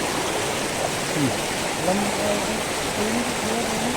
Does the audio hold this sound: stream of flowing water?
yes